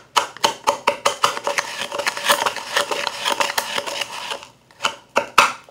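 A spoon mashes Pop Rocks candy in a rapid run of crisp, crunchy taps and crackles up close, pausing briefly before a few final scrapes.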